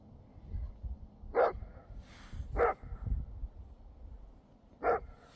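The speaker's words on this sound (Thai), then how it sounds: "หนูต้องเห่าเครื่องบินใช่ไหม" A dog barks three separate times, short sharp barks spaced a second or two apart over low background rumble.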